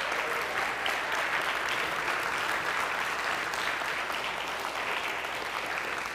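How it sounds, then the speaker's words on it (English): A church congregation applauds the newly baptized during a Sunday service, giving a steady, dense wash of clapping at an even level for about six seconds, with no voices on top. "Let's give a round of applause for everyone that got baptized today."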